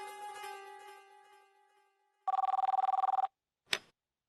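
A telephone rings with a rapid electronic trill burst after a fading tonal chime, then falls silent apart from one short sharp click, left unanswered.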